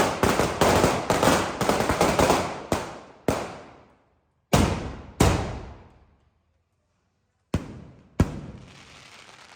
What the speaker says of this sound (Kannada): ಪಟಾಕಿ ಹೊಡಿಯೋದಕ್ಕೆ, ಶಾರ್ಟ್ಸ್ ಹೊಡಿಯೋದಕ್ಕೆ